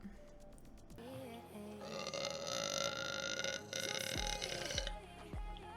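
A woman on a livestream gives a drawn-out, low burp over a noisy stretch of background sound, followed by a couple of short grunting bursts.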